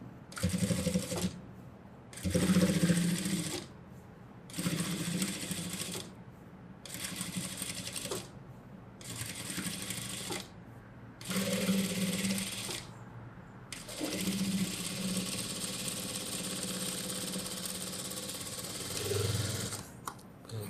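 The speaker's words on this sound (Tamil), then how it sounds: "தையல் நம்ம போட்டாச்சு." A sewing machine stitches along a blouse back-piece edge in repeated bursts of close, steady whirring separated by short pauses, with a longer continuous run near the end and no talk.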